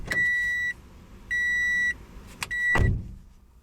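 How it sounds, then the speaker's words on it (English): A 2017 Toyota Corolla sounds three identical electronic door-open chimes, each a steady tone lasting under a second, with soft clicks and a door thud between them in a quiet cabin. "Let's first start by opening and closing the front door and seeing what that looks like."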